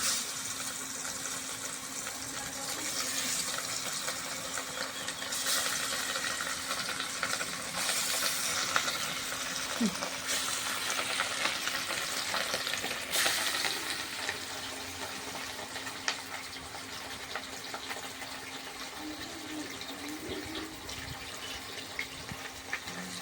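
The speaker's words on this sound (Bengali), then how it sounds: "তেল গরম হয়ে গেছে, মাছটা ছেড়ে দেবো।" Katla fish, a local freshwater carp, frying in hot oil: a continuous fine crackling sizzle with occasional louder pops, steady and close throughout.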